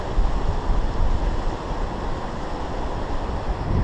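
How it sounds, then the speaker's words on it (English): Yosemite Creek rushes along just above the top of Yosemite Falls, a steady, broad roar of flowing water heard up close with no voices. "This is Yosemite Creek, just above the top of the fall"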